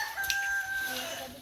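Chicken clucking and crowing close by in a rural yard where a machete has just dropped beside it, the fowl sounds steady against outdoor background noise.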